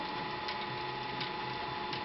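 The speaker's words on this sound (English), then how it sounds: "We're running as slow as second slowest this lathe can go." A metal lathe turning at its second-slowest speed while a fast tool is made, giving a steady, even mechanical whir with a faint whine and light gear rattle, continuous and close, with no talk.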